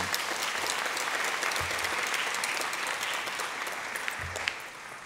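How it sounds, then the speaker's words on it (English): An audience gives a sustained round of applause for a community arts team at an evening arts-education launch event. The clapping is dense and even, holding steady for several seconds before easing slightly toward the end. "Can you help give a round of applause for the community arts team that developed this plan?"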